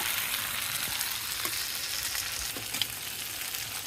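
Meat and potatoes sizzle steadily in a hot pan as they are sautéed together, a dense continuous frying hiss with a few faint stirring clinks, no voices.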